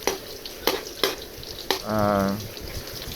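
Food fries in oil in a pan, with a crackling sizzle and a few sharp clicks or taps, then a brief rush like running water near the end.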